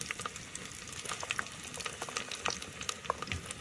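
Spices frying with onion in oil in a pan, a dense continuous crackle and sizzle with scattered pops and stirring scrapes, close and fairly quiet throughout.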